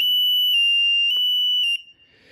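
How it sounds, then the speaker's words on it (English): Loud, steady electronic tone from the volume buzzer on a T5-S3 digital timer with miniature stack light, sounding continuously for nearly two seconds with slight dips, then cutting off into quiet room noise. "This one happens to be equipped with the volume buzzer."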